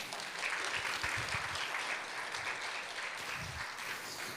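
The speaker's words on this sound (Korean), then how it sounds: "박수를 한번 쳐주도록 그렇게" A church congregation at a Korean night prayer meeting breaks into steady, sustained applause, a dense wash of clapping that carries on evenly throughout.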